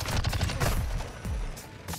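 Rapid gunfire from an MX9 submachine gun in a shooter video game, a dense fusillade of overlapping shots filling the clip at steady loudness with no talk.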